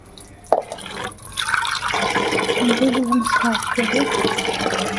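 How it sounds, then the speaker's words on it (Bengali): Tap water splashes and runs steadily into a container as freshly cut vegetables are rinsed in a home kitchen, starting with a brief clatter and continuing as a constant gush while someone talks over it. "সমস্ত সবজি যা কাটলাম সব ধুয়ে নিই।"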